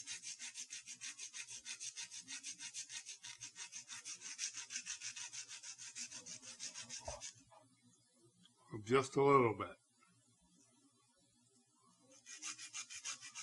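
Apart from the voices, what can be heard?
sanding a bamboo skewer handle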